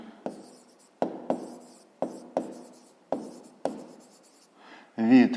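Handwriting on paper during a fifth-grade maths exercise: about eight sharp, distinct pen strokes and taps at uneven intervals, close and quiet, with a brief voice at the very end.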